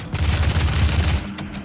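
Rapid burst of assault rifle fire in the video game DOOM, a dense loud volley of shots lasting about a second before cutting off, followed by faint game noises.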